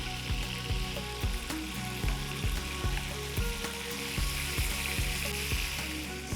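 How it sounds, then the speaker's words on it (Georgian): Large meatballs browning in a frying pan, a continuous crackling sizzle with regular low thumps from the pan, steady and close, with no talk. "სანამ ბურთები დაიბრაწება"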